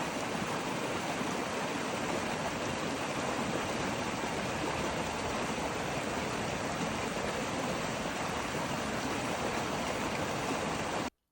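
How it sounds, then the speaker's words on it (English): A small river flows along the edge of a campsite at Deer Springs in Mayhill, New Mexico, a steady broadband rushing wash, fairly close and unchanging, with no voices, ending abruptly. "the little river running along the edge of the property"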